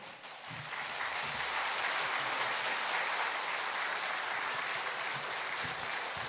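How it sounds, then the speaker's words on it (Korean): A church congregation at a Korean Sunday afternoon worship service breaks into applause that swells within the first second, then holds as steady, even clapping, distant and fairly soft throughout. "설교 안 되는데 왜 박수를 치십니까?"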